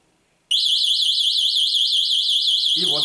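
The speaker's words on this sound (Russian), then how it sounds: "То есть это реально сигнализация, как на автомобиле." A Kugoo M4 Pro electric scooter's anti-theft alarm suddenly starts loud, warbling rapidly up and down in a piercing siren pattern, with a brief low tone near the end.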